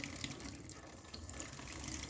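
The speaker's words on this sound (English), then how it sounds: "slow down the water a bit" Water runs from a kitchen tap into a sink, a steady, faint splashing hiss with no voices.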